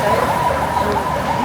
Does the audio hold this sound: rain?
no